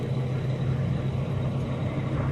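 A truck engine idles with a steady low rumble and hum, close and continuous, while the driver cuts the wheel fully to the left.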